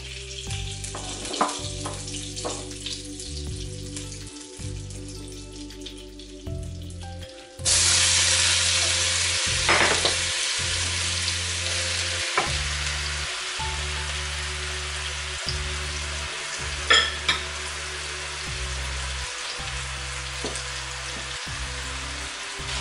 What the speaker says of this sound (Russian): Яблоки буду тушить на топленом сливочном масле.